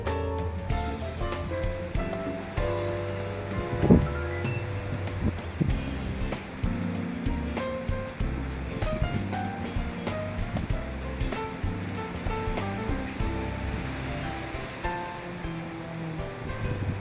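Ocean waves roll in steadily along the Palos Verdes peninsula coastline, a continuous loud surf wash with wind noise and swelling crashes throughout.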